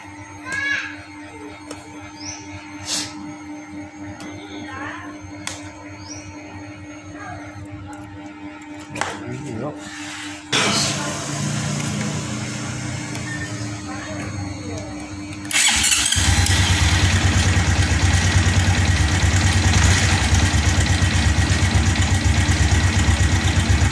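Clicking and a few cranking attempts, then a fuel-injected Honda motorcycle with a weak battery starts and settles into a loud, steady idle that runs to the end.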